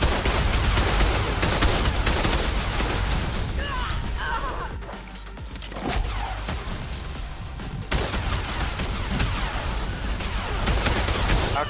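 Turret gunfire in a PvP battle in the game Ark, a dense and loud sustained barrage that dips briefly midway and then resumes just as heavily to the end.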